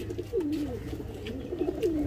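High flyer pigeons coo in soft, rolling calls close by in a winter loft, repeating a few times over a steady low background murmur.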